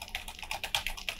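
Computer keyboard typing in an irregular burst of clicky keystrokes, close and fairly quiet, with no voices.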